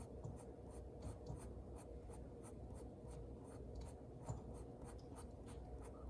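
A number 2 pencil draws long, smooth eyebrow hairs on paper for a realistic portrait, giving soft, close scratching strokes repeated in a quick, even rhythm, faint and alone.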